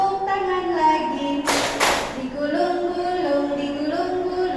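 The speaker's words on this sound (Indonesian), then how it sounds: "tepuk tangan lagi" A group of people clapping hands together at an Indonesian teachers' training session, a short loud burst of several claps near the middle, with singing voices continuing before and after.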